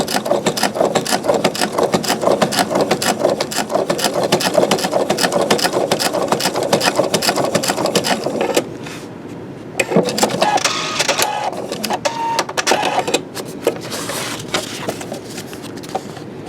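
A Husqvarna Viking Designer Diamond domestic sewing machine stitching at a longer stitch length, a loud rapid rhythmic whir that runs steadily, then stops and restarts in shorter bursts.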